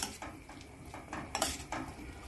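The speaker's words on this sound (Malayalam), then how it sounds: "ഇതെല്ലാം കൂടി നല്ലോണം ഇളക്കി മിക്സ് ചെയ്ത് തിളപ്പിക്കാം" Metal spoon scraping and clinking against a cooking pot while cooked rajma beans are stirred and mixed, a few soft irregular knocks close by.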